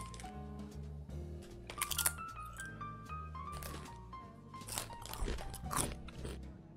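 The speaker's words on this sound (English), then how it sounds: "did you hear that crunch?" Doritos Tangy Ketchup chips are bitten and crunched in a few loud, close bursts, with soft background music playing underneath.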